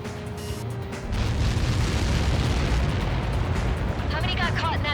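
A massive explosion from the Helios projectile impact in the flight combat game Ace Combat 7, a loud sustained rumbling blast that swells and roars for several seconds, with radio chatter and aircraft sounds mixed in.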